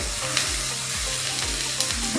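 Shredded cabbage sizzles in hot oil in a pan with chopped onion, cumin and green chili, a steady close frying hiss broken by regular scraping stirs.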